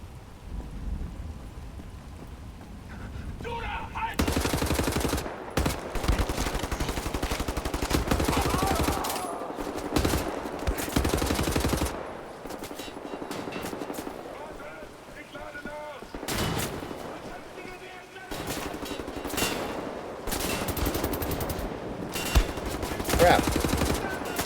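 Gunfire while shooting Nazis in Wolfenstein The New Order, with dense bursts of loud rapid shots, long sustained volleys broken by short lulls, and sharp cracks over a noisy battle backdrop.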